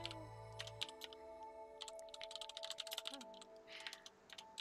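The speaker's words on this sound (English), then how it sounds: "I'm sorry about my keyboard, it's very loud." Loud computer keyboard typing during a Love Nikki game stream, a dense run of rapid clicking keystrokes heard close up with no talking, a low steady tone ending early.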